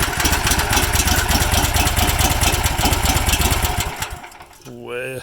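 Small pressure washer engine running with the choke on, a loud, busy, rapid mechanical drone close to the mic that cuts out sharply near the end, followed by a brief voice.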